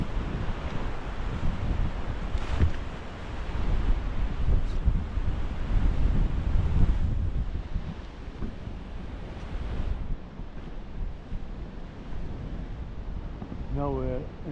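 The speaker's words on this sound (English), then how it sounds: "But the sea super rough." Rough sea surf under force 8 winds on the Maltese coast at Migra l-Ferħa, a steady loud roar of waves and wind buffeting the microphone, with voices talking over it.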